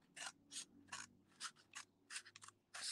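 Scissors snip through a tube of fabric material in a run of about nine short, crisp cuts at an uneven rhythm, close to the microphone in a quiet room, with no talking.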